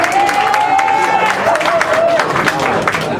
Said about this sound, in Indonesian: Tepuk tangan dulu untuk Oma Munir.